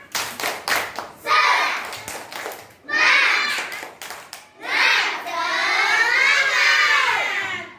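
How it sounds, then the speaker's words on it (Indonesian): Schoolchildren in a classroom clap in rhythmic bursts of a group clapping cheer, with short gaps between phrases and children's voices chanting and shouting along. "ibu mau tepuk semangat"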